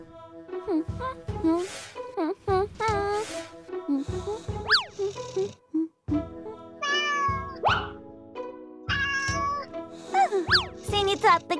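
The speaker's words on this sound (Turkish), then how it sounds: "Seni tatlı kedicik seni." A cartoon cat gives a run of bouncy, pitch-sliding meows mixed with springy cartoon sound effects, loud and close, amid animated character chatter.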